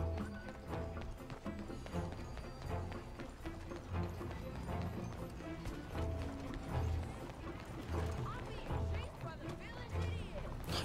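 A horse in Red Dead Redemption 2 clip-clops steadily on the ground, its hooves repeating in a regular gait under game ambience and someone talking.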